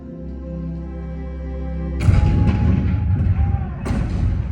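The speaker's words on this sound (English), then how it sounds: "the cannons spoke for war" A steady low hum cuts off into a heavy booming cannon blast with rumbling aftermath, then a second sharp report follows, loud and close.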